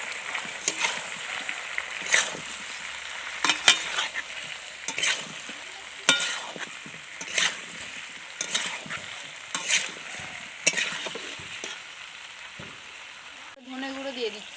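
Chicken with potato and Malabar spinach is stirred while it fries in a pan. Rhythmic spoon scrapes and clatters repeat over a steady sizzle, close by, with a different rattle at the end.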